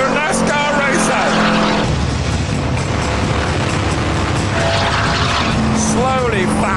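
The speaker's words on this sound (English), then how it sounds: "Oh, what a NASCAR racer!" A NASCAR race car drones loudly at speed from inside the cockpit, a continuous heavy engine roar with shifting whines, while someone talks over it.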